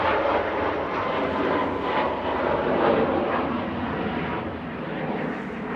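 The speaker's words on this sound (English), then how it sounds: "Departing now, we've got Ryanair heading to Agadir" Ryanair Boeing 737 MAX 8-200 departing Manchester Airport, a steady, loud broadband jet roar at some distance, heard alone.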